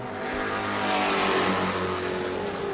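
Pickup trucks race on a track, their engines a continuous blended roar that swells and fades slightly as the pack passes, heard from a distance without commentary over it.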